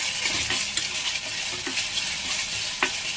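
Khubba masala sautés in a pan with a continuous bright sizzle, while a spoon stirs it with occasional scraping knocks against the pan, close and steady, with no voices.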